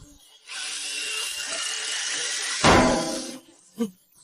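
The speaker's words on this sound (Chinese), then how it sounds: "这叫锂电钻。" A cordless lithium drill drives into a steel frame beside sandwich panels, whirring steadily for about three seconds, then grinding louder as it bites in before stopping, followed by a short thud.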